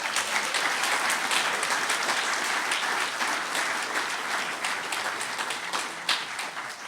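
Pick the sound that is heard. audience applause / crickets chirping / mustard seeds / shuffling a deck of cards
audience applause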